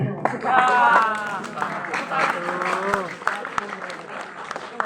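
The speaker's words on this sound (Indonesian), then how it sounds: "Tepuk tangan untuk sepatu." Applause from students at a Monday school flag ceremony, a burst of clapping heard under talk and voices nearby.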